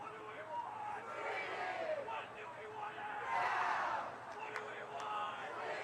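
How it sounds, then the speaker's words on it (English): At a high school varsity football game between Salesianum and Episcopal Academy, a crowd roars and cheers, swelling loudly in the middle as a commentator talks over it. "Crowd getting hyper."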